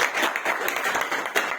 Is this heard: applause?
yes